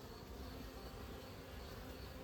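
Bees buzz in a dense, continuous drone from an open hive, close and steady throughout.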